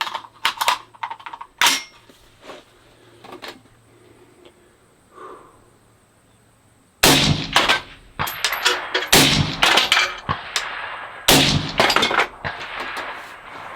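A 6ARC rifle fed from an AR Stoner magazine fires a series of loud, sharp shots at irregular intervals, heavier in the second half, with metallic clatter and handling noise between them.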